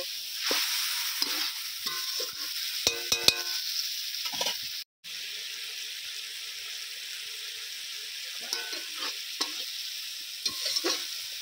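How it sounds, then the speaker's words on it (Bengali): Spice paste being stir-fried in a pan after water is added, for a cauliflower and potato curry: a steady sizzle under scraping spatula strokes, with a few sharp clinks and a brief dropout midway. "জলটা দিয়েও আমি 2 মিনিট খুব ভালো করে কষিয়ে নেব।"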